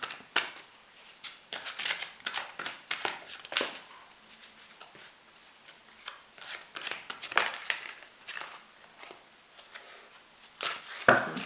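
Tarot cards are shuffled by hand in repeated quick riffling bursts with brief pauses between, close and crisp, with no talking over them.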